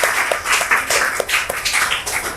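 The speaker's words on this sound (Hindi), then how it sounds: "पल्लवी के लिए एक जोरदार ताली होनी चाहिए।" A studio audience at a quiz show claps for the contestant Pallavi, a dense, close run of mixed hand claps with bright rapid slaps, steady throughout with no pause.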